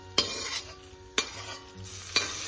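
Sago pearls are stirred into a hot tempering with crisp peanuts for sabudana khichdi, three sharp scraping strokes of a spoon against the pan about a second apart over a low continuous sizzle, close and with no talking.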